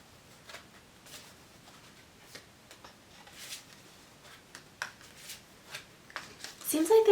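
Tarot cards are drawn and shuffled close by, producing soft, scattered flicks and taps, with a louder rustling flurry near the end, under a quiet speaking voice.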